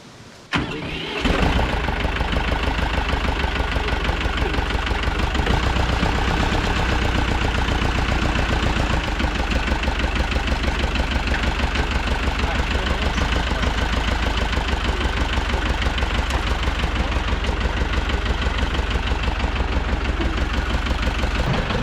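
A tractor engine cranks and starts, then settles into a loud, steady idle with a rhythmic diesel knock that continues without pause.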